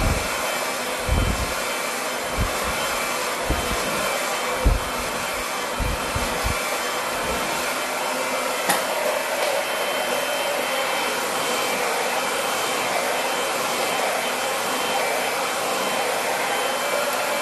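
A hair dryer runs steadily and close throughout an above-shoulder blow-dry with a centre parting, with a few brief knocks and handling bumps early on and a constant airy roar with no talking.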